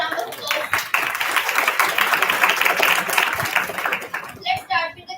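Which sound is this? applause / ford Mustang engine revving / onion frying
applause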